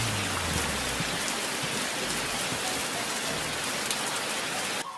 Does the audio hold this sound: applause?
no